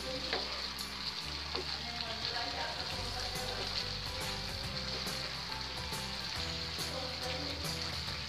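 Potatoes and cauliflower sizzle and fry steadily in a pan as they are stirred and mixed, a continuous close crackle with scraping stir strokes and no talking.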